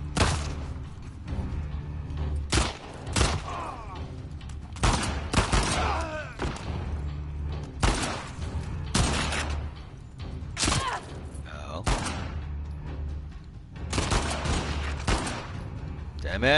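Rapid gunfire bursts and heavy thuds from The Last of Us Part II combat, loud and repeated throughout with short pauses between volleys, with voices talking over the action.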